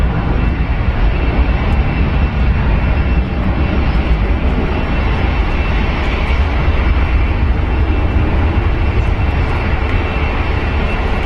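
An Airbus A380 at London Heathrow, a heavy sustained jet rumble with strong low-end roar, loud and constant across the whole stretch, with no talking.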